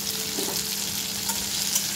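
Steady close sizzle of frying in a pan for an egg dish, a continuous even hiss and crackle with no voices.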